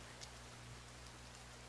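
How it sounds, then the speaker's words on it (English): Steady rainfall in a video game makes a faint, even hiss with scattered soft drop ticks, continuing unbroken throughout with a low background hum. "I know it's raining."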